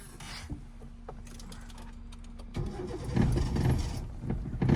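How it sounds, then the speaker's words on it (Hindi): Quiet cabin sounds with a faint steady tone, then a manual-transmission car engine turns over and catches with the clutch pressed, running louder and rougher toward the end. "वापस क्लच दबा के इंजन स्टार्ट करो।"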